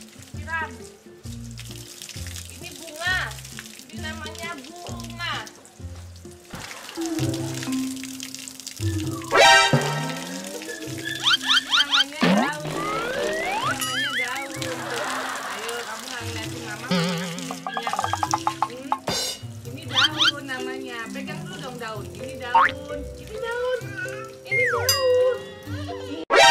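Water is poured over a child during a bath in repeated splashing bursts, with dripping and sloshing in between, heard close under lively talk and a voice.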